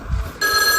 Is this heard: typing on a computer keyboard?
no